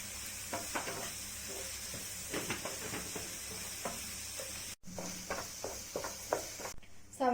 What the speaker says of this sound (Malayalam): ആവശ്യത്തിന് ഉപ്പും ചേർത്ത് നമുക്കിതൊന്ന് നന്നായിട്ട് വഴറ്റിയെടുക്കാം